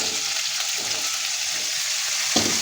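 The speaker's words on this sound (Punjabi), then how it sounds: "ਆਲੂਆਂ ਨੂੰ ਆਪਾਂ ਤੇਜ਼ ਫਲੇਮ ਤੇ ਥੋੜਾ ਫਰਾਈ ਕਰ ਲਵਾਂਗੇ" Potatoes fry over a high flame in a steady, dense sizzle with faint stirring movement throughout and a single sharper scrape near the end, close and continuous with no voices.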